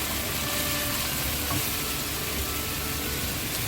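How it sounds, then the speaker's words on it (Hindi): Chicken and cubed capsicum sizzle steadily in a hot pan for Hyderabadi mixed vegetable chicken kharai, with a loud continuous frying hiss and faint stirring scrapes, no voices. "सबको हम मिक्स करेंगे ताकि इसके अंदर मसाला अच्छी तरह लग जाए"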